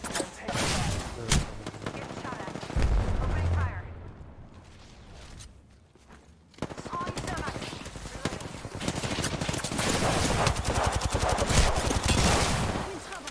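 Loud, sustained automatic gunfire in the video game Apex Legends, with rapid bursts and a brief lull before the shooting resumes and continues densely to the end.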